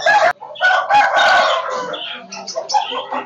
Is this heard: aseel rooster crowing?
yes